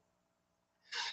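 A single sharp sneeze bursts out near the end after near silence, loud and close with no talk over it.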